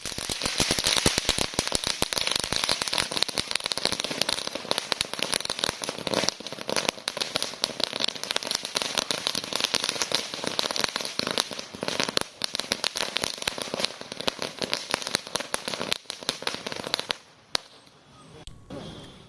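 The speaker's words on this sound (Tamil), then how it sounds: "அந்த காட்சிகளை பார்க்கலாம்" Strings of firecrackers burst during a party celebration outside Anna Arivalayam, a dense, loud, continuous crackling of rapid pops that runs for about seventeen seconds before cutting off abruptly.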